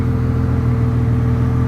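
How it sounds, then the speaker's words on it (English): A Porsche Carrera GT with a Gemballa exhaust idles close by, a steady, loud, deep rumble with a low droning hum and no change in pitch or level throughout. "the way that the exhaust is on this car and all that, this thing sounds mean"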